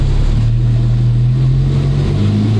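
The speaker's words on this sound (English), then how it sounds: "You hear like the exhaust noise?" A twin-turbo Ferrari V12 runs steadily, its exhaust a loud, continuous low rumble heard close up, with no break across the whole clip.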